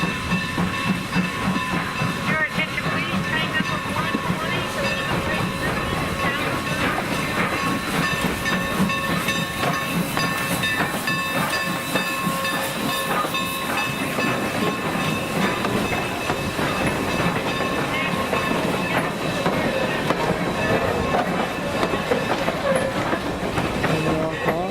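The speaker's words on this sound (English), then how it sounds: "I'm going to put the video clips in, and we rode the train." A Strasburg Railroad train rolls along with a steady rumble, hiss and clickety-clack of wheels. The sound is continuous and fairly even throughout.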